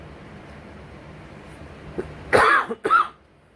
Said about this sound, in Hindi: इतनी देर बात करने के बाद मेरे को खांसी आई